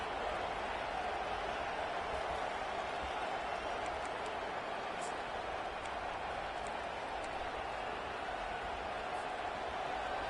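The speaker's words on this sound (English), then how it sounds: "This crowd trying to make life miserable for this offense." A football stadium crowd in a video game sends up a steady, distant roar of noise, faint and continuous throughout, with no talk over it.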